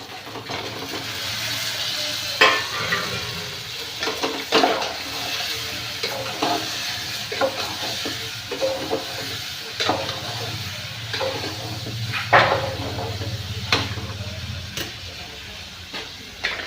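Eggplant goes into a hot pan and sizzles steadily while a spoon stirs and scrapes through it, the frying hiss close and constant with repeated clinks and scrapes and no talk.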